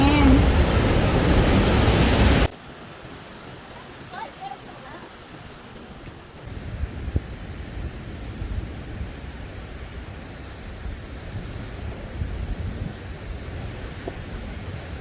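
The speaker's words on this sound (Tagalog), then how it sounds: "Ay, may falls din." The man-made waterfall at Ara Waterway roars as a loud, broad rushing wash for a couple of seconds, then cuts abruptly to much quieter outdoor ambience.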